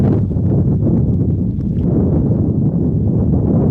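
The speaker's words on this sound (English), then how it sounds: "The wind is really, really gusting down the pitch" Strong wind gusting across an outdoor football pitch during a match, a loud continuous low roar buffeting the microphone with no clear breaks.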